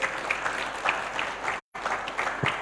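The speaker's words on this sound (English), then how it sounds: "Round of applause." Audience applause at a youth seminar in Ghana fills the room with dense, steady clapping throughout, broken by a brief silent gap, as a speaker is welcomed to the stage.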